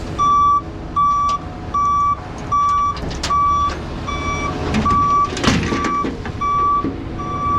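A concrete truck backs up on a concrete pumping job, with its loud reversing alarm beeping in a steady, evenly spaced rhythm over a rumbling engine and a brief clank of machinery.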